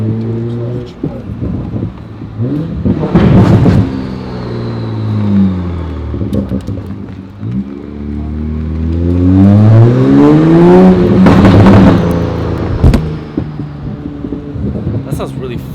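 A Toyota Supra with a Liberty Walk widebody kit revs its engine, rising and falling in loud sweeps twice, with wind noise and people talking over it.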